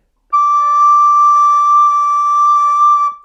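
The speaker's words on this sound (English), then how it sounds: "If you have any leaks, this will not work, and you'll probably get something that sounds like this." A recorder gives a shrill, squeaky overblown note from air leaking past fingers that are not fully covering the holes, held for about three seconds with a slightly wavering pitch and no talking.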